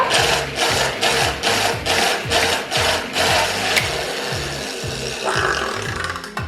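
A pull-string manual food chopper mincing parsley, the cord yanked again and again in a quick regular rhythm, each pull giving a whirring ratchet of blades spinning inside the plastic bowl, close and alone.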